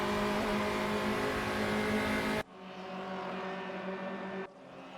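Race car engines at RaceRoom Raceway Bridge in the RaceRoom racing game, shown in an onboard view, howling loud and steady at high revs, with an abrupt drop in tone midway like a gear change or camera cut.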